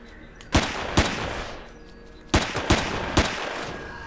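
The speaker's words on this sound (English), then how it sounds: "Stop shooting at me, sir!" Gunfire in the survival game Empyrion Galactic Survival, five sharp, loud shots in two clusters, two about half a second apart, then three more after a pause, each ringing over a steady background hum.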